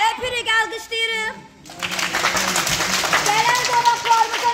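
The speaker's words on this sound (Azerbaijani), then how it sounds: "Öpürük, alqışlayırıq." Children in the audience at a festive children's event clap together after a brief spoken line. A lively mix of many small hands applauds alongside crowd noise and voices.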